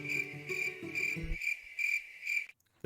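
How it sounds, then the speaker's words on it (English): Cricket chirps from a Sherlock Holmes video game pulse in steady, even bursts at a constant pitch, fairly loud, over a low game soundscape that drops away near the end. "Crickets?"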